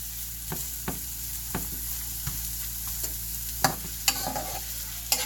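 Onions cooking down in a pan for smothered pork chops, a soft steady sizzle with occasional scrapes and taps of a utensil stirring, fairly quiet and without talk.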